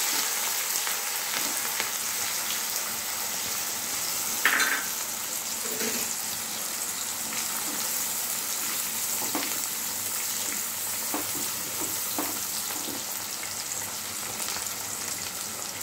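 Chopped onion and ginger-garlic paste with black pepper fry in a pan with a steady, dense sizzle, joined by a few faint clinks of a utensil against the pan.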